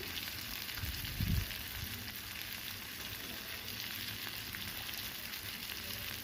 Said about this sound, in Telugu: దొండకాయ ఫ్రై అయ్యేవి అంతవరకు వరకు మధ్య మధ్యలో కలుపుకుంటూ ఫ్రై చేసుకోవాలి